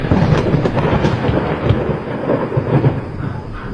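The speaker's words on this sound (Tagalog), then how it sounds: "umuulan na no?" Steady heavy rain roars throughout, with deep rumbling thunder rolling underneath, loud and continuous.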